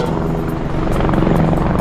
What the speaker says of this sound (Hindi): ये हेलीकॉप्टर जा रहा है